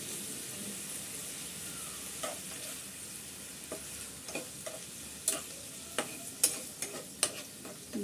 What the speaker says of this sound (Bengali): একটু নেড়ে চেড়ে আমি হালকা একটু ফ্রাই করে নিচ্ছি।